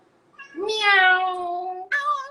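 A voice imitating a cat's meow, one drawn-out close meow followed by the start of a second, clear and alone.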